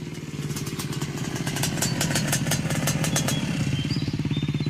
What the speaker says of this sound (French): Il est à moto sur un terrain accidenté.